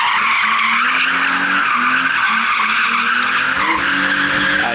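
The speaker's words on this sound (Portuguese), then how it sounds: "Aí, a BMWzinha E46, parece que é aspirada." A BMW E46, apparently naturally aspirated, drifts on a flowing track with sustained loud tire squeal and skidding over the droning engine, continuous and close throughout.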